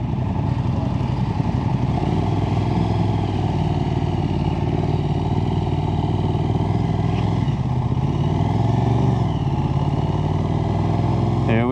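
Aprilia RS660 sport motorcycle being ridden, its engine droning steadily and loudly throughout with constant wind rush, the pitch shifting only slightly.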